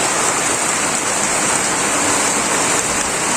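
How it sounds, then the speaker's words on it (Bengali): Heavy rain pours down steadily in a dense, loud, unbroken roar that holds an even level from start to finish, with no voices. "এ হে জরি নামছে গো"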